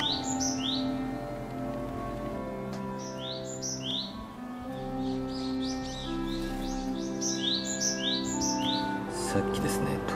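A small white bird chirps repeatedly near a nest box, with rapid high tweets in clustered bursts over a steady background hum, fairly close and clear throughout.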